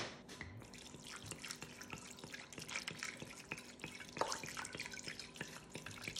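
Cold tap water runs steadily into a sink while lamb is rinsed for an oven-roasted lamb and potato dish, with splashing and dripping throughout, close and fairly quiet, no talking.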